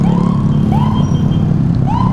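An ambulance siren wails loud and close, its rising and falling sweeps repeating over a steady low rumble of traffic.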